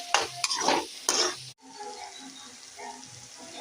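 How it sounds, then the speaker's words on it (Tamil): Tomato stirred into ginger garlic paste while sautéing for chicken gravy: scraping stirs in a pan, then a soft steady sizzle, close and moderately quiet. "இப்போ தக்காளி இதோட சேர்த்து நல்லா வதங்கட்டும்."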